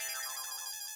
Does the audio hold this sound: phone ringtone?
yes